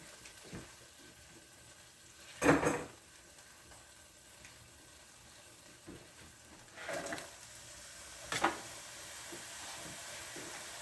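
Onions sautéing in a few tablespoons of oil in a pan for hamburger steak onion gravy: a faint, steady low sizzle with a few louder stirring bursts scattered through, no talk.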